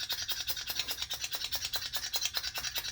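Menthol crystals are cranked through a salt or pepper grinder, making a close, quiet, rhythmic gritty grinding of rapid, evenly spaced crunchy rasps that continue without pause, with no talking.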